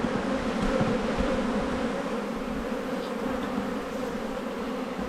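Honey bees drone in a dense, steady buzz around an open spring hive colony during an inspection, the swarm close and continuous with no break or voices.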